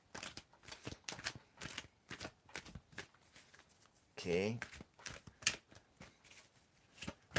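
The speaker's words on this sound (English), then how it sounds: "Just tell me when to stop shuffling." Tarot cards being shuffled in quick, crisp riffling bursts close to the microphone, with a brief bridge-like flutter midway, while someone talks over the shuffling.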